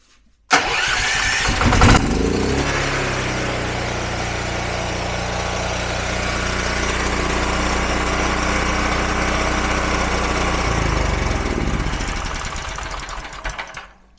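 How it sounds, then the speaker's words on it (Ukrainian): A dual-fuel generator running on LPG cylinder gas fires up with a sudden start and settles into a steady mid-pitched engine drone. It runs evenly for about ten seconds before winding down, with no talking. "Генератор працює від газу."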